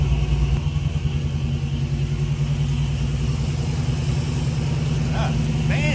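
A rare 1969 Dodge Charger R/T SE with 45,000 original miles idling, its engine a steady, close, low rumble running evenly with a few faint high chirps near the end.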